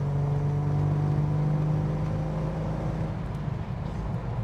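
A 1972 Datsun 240Z's engine hums steadily from inside the car on a road drive, with a constant low drone and a slight change in pitch partway through as it runs through the gears. No one speaks.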